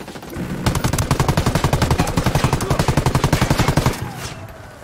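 Rapid automatic gunfire in Ghost Recon Wildlands, a long sustained burst of evenly spaced shots, loud and close, running about three seconds before stopping abruptly.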